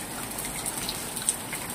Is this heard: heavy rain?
yes